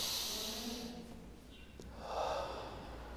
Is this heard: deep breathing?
yes